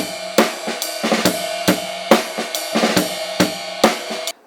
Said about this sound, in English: I want you to add a little ghost note after your first snare hit